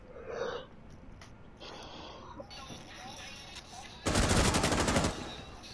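Video-game gunfire comes as a few bursts of shots, with one loud, rapid volley near the end, set against quieter game sounds and a breathy vocal noise.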